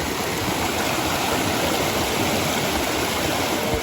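A stream of water rushes steadily toward a river, making a loud, continuous broadband flow with no breaks and no voices over it.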